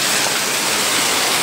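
Heavy monsoon rain pours down in Junagadh during flooding, a loud, dense, unbroken roar that holds steady throughout with no voices.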